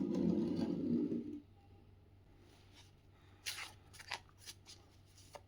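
Tarot cards are shuffled close by, first with a brief rushing riffle, then in light crisp flicks and slides that come in short bursts after a quiet pause.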